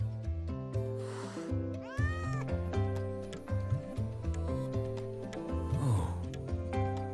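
Frightened stray cat meowing in short, strained calls over a busy backdrop of music, with several tonal cries rising and falling across the stretch.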